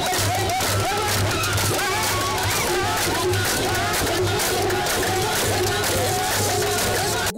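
A large crowd in Kidal, Mali cheers and chants to welcome a ministerial delegation, a dense, loud and continuous roar of many voices with shouts and a steady low drone underneath.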